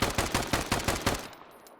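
A gun fires a rapid burst of about eight loud, evenly spaced shots at weak base walls in the survival game Deadside, then the sound cuts to near silence.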